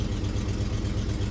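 A 1988 Chevy R30 truck engine idles after a cold start, its exhaust manifold air tubes broken off, giving a steady, rough low rumble with an even pulsing rhythm and no talk.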